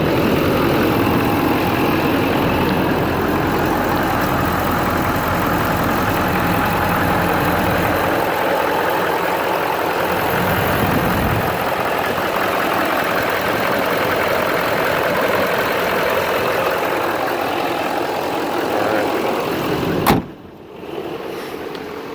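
A 2011 GMC Sierra 2500 HD truck idles with its engine bay open, giving a loud, steady rumble that runs unbroken for about twenty seconds before a sudden clunk and a drop in level near the end.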